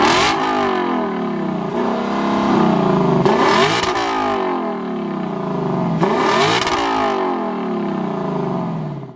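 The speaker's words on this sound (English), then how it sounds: "The other cool thing about the exterior of this car, that would be the exhaust note," A 2018 Lexus LC500 blips its exhaust in three or four loud, sharp revs, each rising fast then falling back to a rumbling idle, close to the tailpipes with no talk.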